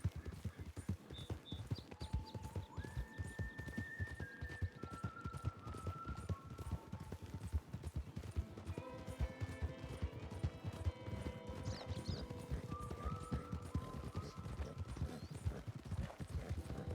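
Steady, rapid clip-clop of horse hooves in the video game RedM throughout, with musical tones and light effects layered over the galloping rhythm.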